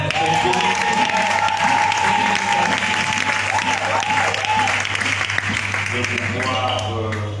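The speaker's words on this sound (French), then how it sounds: "on acclame quand même" Audience applause at a French-speaking church gathering, loud sustained clapping from a large crowd filling the whole stretch, with a voice speaking faintly beneath it.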